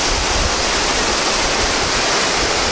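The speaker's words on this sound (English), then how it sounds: "you've got this huge, great waterfall" A huge waterfall in Syunik province, Armenia, produces a steady, loud, unbroken rushing roar of falling water, heard close up with no other sounds.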